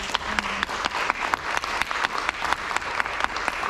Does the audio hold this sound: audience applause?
yes